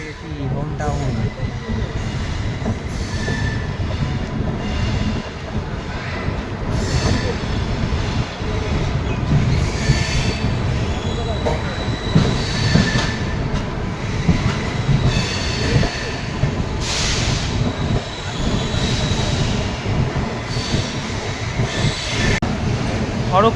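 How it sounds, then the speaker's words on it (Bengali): The Bhubaneswar–Howrah Jan Shatabdi Express rolls into Kharagpur station with rumbling wheels, rattling carriages and occasional squeals, steady and close for the whole stretch, with voices talking over it. "ট্রেন খড়গপুর স্টেশন এন্টার করছে"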